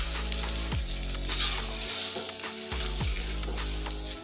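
Potatoes and eggs fry in a pan over a raised flame, giving a steady, close sizzling hiss that lasts throughout with a low background hum and occasional soft knocks.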